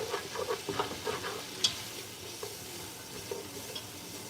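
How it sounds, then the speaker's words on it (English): A spoon stirs and scrapes the bottom of a sizzling pan while chicken leg soup is being started, giving a soft steady sizzle broken by rhythmic scraping strokes and one sharp clink. "I'm just trying to pick up the little flavors off the bottom of the pan."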